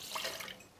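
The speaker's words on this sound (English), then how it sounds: "here we'll just pour this off into this pitcher." A drink is poured into a pitcher in a short, quiet splash of liquid lasting under a second, with no talking.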